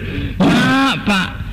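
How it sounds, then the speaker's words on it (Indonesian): A man in a radio drama gives two short, voiced, close coughs, the first longer and harsher, the second brief, in a quiet studio setting. "Pak, batuk dari dulu ya uhu-uhu"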